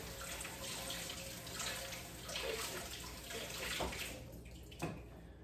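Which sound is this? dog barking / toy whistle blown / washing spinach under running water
washing spinach under running water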